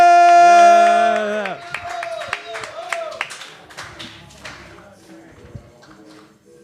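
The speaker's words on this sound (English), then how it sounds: "Keep clapping, keep clapping, keep clapping, keep clapping for Josh Larsen!" A live comedy show audience clapping for comedian Josh Larsen, scattered claps and taps over music and a brief spoken word, thinning out toward the end.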